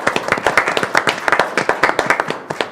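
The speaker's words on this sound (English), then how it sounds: "I think they deserve a round of applause." Applause at a city council meeting after a vote, a small group clapping with distinct, uneven hand claps in a steady burst, fairly close and loud, with no talking over it.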